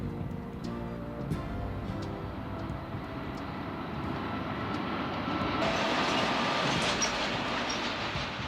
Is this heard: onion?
no